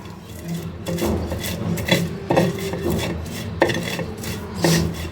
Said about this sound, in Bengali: লবণ দিয়ে মরিচগুলো ভেঙে নেব।